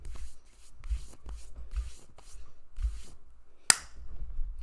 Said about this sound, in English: I scared Pumpkin with that clap